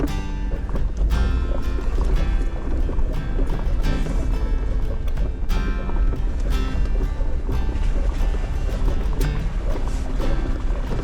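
An overland vehicle on the Allegheny Loop route in Virginia drives into a creek crossing, with loud, continuous rumbling and water churning under steady wind buffeting throughout, no talking.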